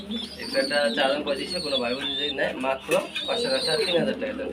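Pairs of pigeons kept for sale coo and warble continuously in a busy loft, a close, layered chorus with someone talking over it throughout.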